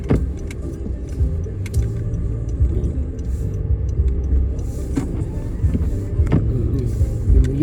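A car creeps slowly along a snowy, icy road on studless winter tires, its engine rumble and road noise steady and close throughout, with occasional small clicks and knocks from the cabin.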